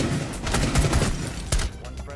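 Gunfire in Rainbow Six Siege, with a teammate hitting a friendly, comes as dense close bursts of rapid shots, loud and continuous before breaking off near the end.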